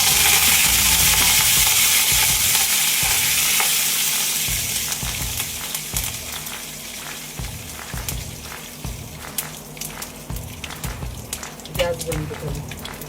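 Curry leaf tempering for sambar sizzles loudly in a hot pan, a dense hiss at first that gradually thins into crackles and pops.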